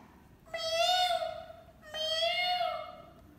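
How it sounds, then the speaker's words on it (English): A cat meows twice in a row, each call a clear, drawn-out tone of about a second, fairly close and alone against a quiet background. "This is a cat. Meow, meow."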